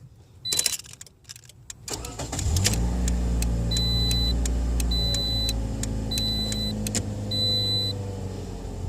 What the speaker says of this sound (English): directions say to start the vehicle, so we're going to try that right now